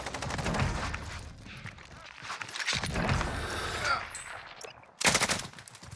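Frag-round gunfire in Call of Duty Warzone Plunder crackles in repeated bursts, mid-distance, with a loud close burst near the end, mixed with game noise and player talk.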